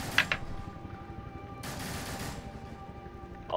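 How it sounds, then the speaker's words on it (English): Gunfire from the zombie shooter No More Room in Hell on a Chinatown map comes as faint, distant bursts of shots over a low background rumble. A brief burst opens the clip and a longer volley follows. "I hear other people shooting."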